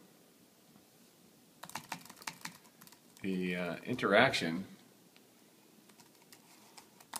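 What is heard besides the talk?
typing on an iPad keyboard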